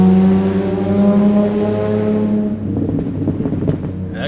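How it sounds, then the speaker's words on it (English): A car engine runs loud and rough with a droning, uneven harmonic tone, the steady note giving way midway to a rattling, sputtering revving that stays up close. "That car sounds terrible."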